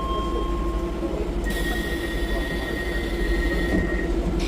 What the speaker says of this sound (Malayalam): എൻ്റെ ട്രെയിൻ വന്നു, നമുക്ക് ട്രെയിനിൽ പോകാം.